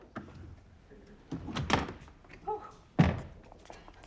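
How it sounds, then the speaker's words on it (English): Door thumps and a bang sound in a comedy scene as someone is told to open up, with a few solid knocks or a shut landing between quiet stretches of room noise. "Wanda, open this door."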